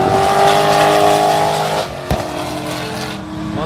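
A Mustang and a Challenger race side by side, their engines roaring loudly and close, with a steady high drone that drops off sharply partway through, followed by a brief thud and a lower fading rumble.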